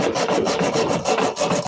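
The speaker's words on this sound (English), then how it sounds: "Here's the push stroke, but here's the pull stroke. It's a rip saw. It rips." A rip saw cutting into wood with steady, raspy strokes, close and loud, each pull stroke biting with a coarse rhythmic scrape over under two seconds.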